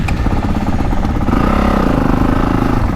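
A 2025 Honda CRF450R motocross bike roars loud and close on an RT62MX track, its engine holding a steady, dense drone with a rising rev partway through and no voices.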